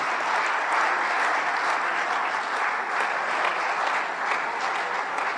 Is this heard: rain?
no